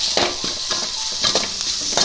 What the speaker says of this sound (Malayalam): നല്ലതുപോലെ അങ്ങ് ഇളക്കി കൊടുക്കുക